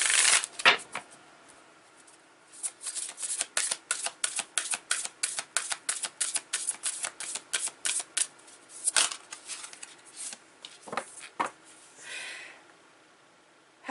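Tarot cards riffle and snap in a rapid run of crisp flicks, close up, followed by a few softer shuffles and slides.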